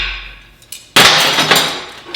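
Rounding hammer striking steel: one sharp, bright metallic clang rings out loudly after a quieter lead-in and decays with a shimmering ring, close up and alone.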